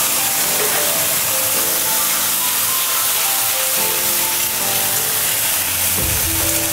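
A paste of ginger, garlic and onion hits hot oil with whole garam masala for an egg korma, producing a loud, dense, unbroken sizzle and hiss from start to finish.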